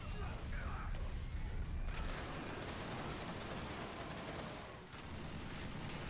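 Air fuel grenades blast in the shooter Resistance 2, producing dense roaring explosions and crackling gunfire that fill the scene almost continuously, with a couple of stronger bursts standing out amid the heavy battle noise.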